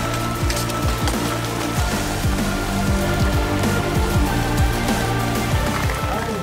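Rain falls during the Saintelyon night trail race, a dense steady patter with runners' footfalls and thumps mixed in, close and continuous, no clear talking.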